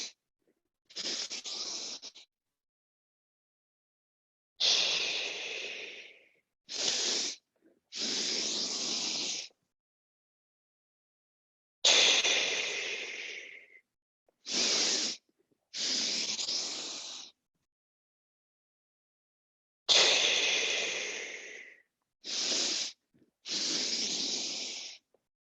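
Deep breathing during a yoga-style flow: slow, airy inhales and exhales come in repeated groups of strong, close breaths with silent holds between them, heard alone.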